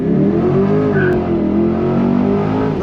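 A Corvette C8 accelerates hard under launch control on blacktop, its loud engine note holding steady and then climbing in pitch, close and continuous with no talk over it.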